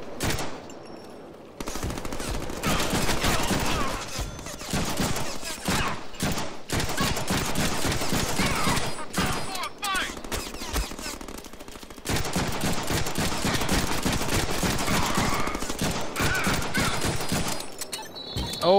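Sustained rapid gunfire and automatic bursts fill a Deadpool video game firefight, loud and nearly continuous with brief pauses and a short drop in intensity midway, layered over game action.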